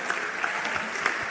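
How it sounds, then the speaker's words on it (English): Audience at the Africa Retail Congress 2023 awards applauding winner So Fresh Limited: dense, even clapping from a sizeable crowd in a hall, moderately loud and continuous, with a few sharper nearby claps standing out. "Round of applause for So Fresh Limited."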